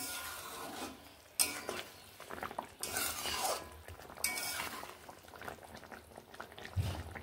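Koi fish curry stirred in a pan, quiet scraping and metal utensil clinks against the pan over a low bubbling simmer, with intermittent louder scrapes.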